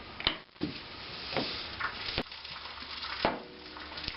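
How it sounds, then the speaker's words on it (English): A steady sizzle hisses from a hot pan of country-style sausage, punctuated by a few sharp clinks and taps of utensils. "Y'all hear all that sizzling going on over there on the side?"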